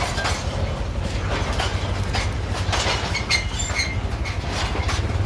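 Rail wagons rolling steadily along the track with a rapid rhythmic clatter and low rumble, one stuck wheel not turning, close and continuous with faint squeals above.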